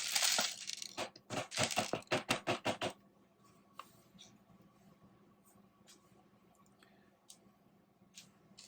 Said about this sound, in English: We're going to go ahead and flip them and put them onto the board.